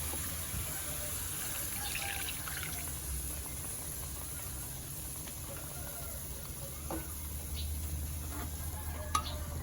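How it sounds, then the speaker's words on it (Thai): Water poured over pork belly frying in a pan gives a soft, steady sizzle and bubbling hiss with faint stirring and occasional small ticks, fairly quiet and close. "แล้วก็ใส่น้ำเปล่าลงไปอีก"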